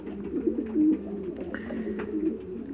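Pigeons coo in a pigeon loft, with soft repeated throaty calls close by and steady low murmuring throughout.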